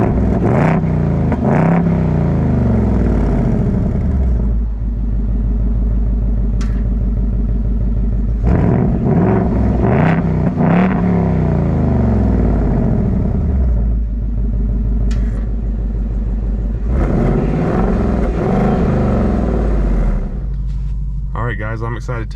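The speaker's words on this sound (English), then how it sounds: "I'm excited to take this Mustang for a spin" A 2024 Ford Mustang GT with a 6-speed manual drives along, its steady engine rumble rising and falling through gear changes, loud and close throughout.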